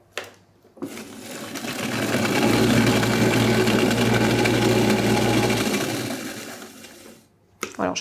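A kitchen mixer whirs up from a pause and blends hazelnut and cereal praliné with fleur de sel, a steady mid-pitched motor drone for about six seconds before winding down, with brief handling clatter at either end.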